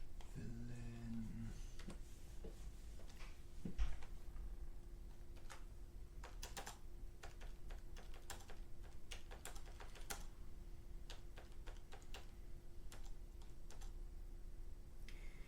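Quick typing on a computer keyboard, a steady stream of light clicks with a few sharper taps, close and fairly quiet against a faint background hum.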